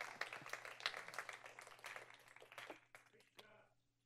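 Very faint, distant applause from a small group, with brief talk mixed in, tapering off toward the end.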